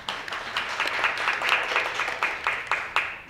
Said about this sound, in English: That deserves a round of applause in itself.